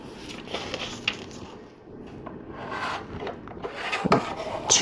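LEGO City Jungle Mobile Lab pieces are handled and fitted together, with scattered light plastic clicks, rubs and rattles near the listener and no talk.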